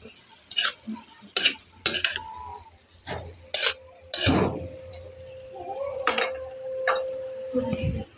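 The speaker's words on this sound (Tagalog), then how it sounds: "Haluin natin ng konti." Stirring bamboo shoots in a pot after adding pepper, with a spoon clinking and tapping against the pot in irregular clusters, close and fairly clear, with a faint steady tone underneath.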